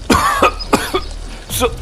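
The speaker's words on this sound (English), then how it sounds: "Should I keep coughing all day?" Three sharp, harsh coughs close by, spaced about half a second apart, the last one loudest.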